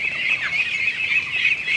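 Ducklings cheep and squawk continuously in a high, busy chorus while a duck booster vaccine is given, with steady overlapping calls and no talking.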